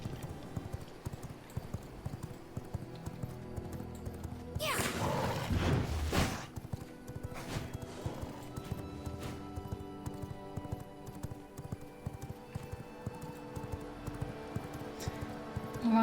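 Clip-clop hooves of a horse ridden in the V Rising video game, a steady rhythmic patter throughout with a louder whooshing burst midway; faint voices are present in the background.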